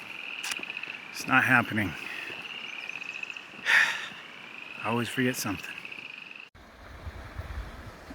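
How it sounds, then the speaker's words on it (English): Frogs near a pond on the Wheeler Creek Trail give a few loud croaking bursts in clusters, with a steady high insect-like drone behind them and someone talking between the calls. "Those frogs we were hearing are right down in here somewhere."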